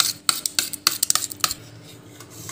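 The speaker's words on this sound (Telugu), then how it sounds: "దీన్ని మంచిగా ఇట్లా గడ్డలు లేకుండా కలుపుకోవాలి" A spoon clinks and scrapes briskly against a bowl while half a litre of curd is stirred smooth, giving a quick irregular run of close, sharp taps that fades into softer stirring.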